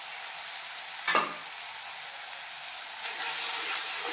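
Ginger paste sizzles in a frying pan, a steady close hiss with one brief scrape of stirring about a second in and the frying growing a little louder near the end.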